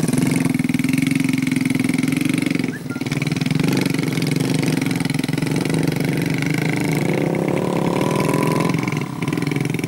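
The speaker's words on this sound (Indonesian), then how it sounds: "dengan motor bermesin Yamaha" A Yamaha-engined trail motorcycle used as a rice-field taxi in Soppeng, South Sulawesi, runs steadily and loudly throughout, with a low rumbling drone and slight shifts in pitch as it revs.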